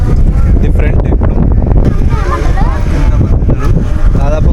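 A boat ferry near Antarvedi Palem carries two cars and over twenty motorbikes, its engine a deep constant rumble under heavy, loud gusting wind buffeting the microphone.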